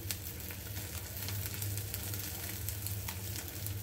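Small eggs frying in a pan with oil, a steady crackling sizzle held at an even level throughout, no voices.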